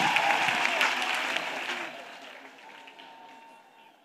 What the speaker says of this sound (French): Clap up free for Jesus.